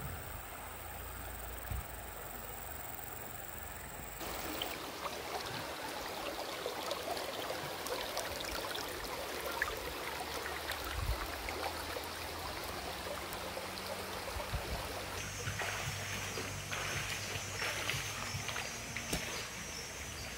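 River stream flowing at an eco camp in Marahang, Kokol, a continuous broadband rush of water at moderate level with no pauses, and no voices.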